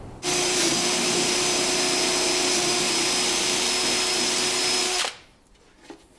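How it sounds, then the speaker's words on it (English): A power drill bores a hole through walnut in a steady, loud whine lasting about five seconds, then stops abruptly, leaving a quiet tail with a faint knock. "Now with that hole drilled"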